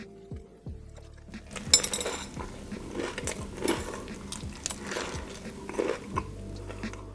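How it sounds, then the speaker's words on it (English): Crunchy bites into a homemade lightened-up Popeyes-style fried chicken sandwich, several close crisp crunches and chewing spread over a few seconds, with faint clinks, no talking. "Let's have a quick taste test and listen to the crunch."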